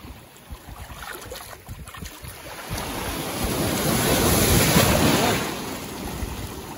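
Wind blows while sea waves roll in, the surf swelling louder midway before easing off slightly, with no voices.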